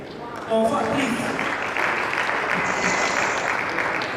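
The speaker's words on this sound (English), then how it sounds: "a round of applause" An audience at an engineering conference in Ilorin applauds, a broad steady wash of clapping that starts suddenly and continues throughout, with a voice speaking over the start.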